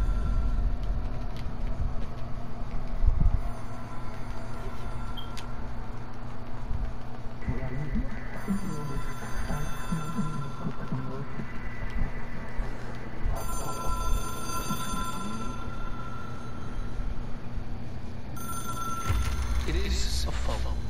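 An old telephone rings in the video game Control, a bright repeated bell tone sounding in bursts over a steady, droning in-game ambience, with voice-like sounds mixed in.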